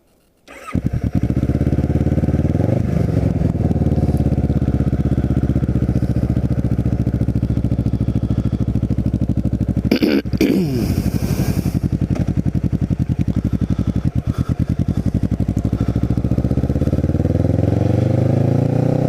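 A Kawasaki Ninja motorcycle engine runs steadily and loud throughout a cold, overcast winter ride through Cape May, with rising and falling revs and a brief burst of wind or gear noise midway; no one speaks.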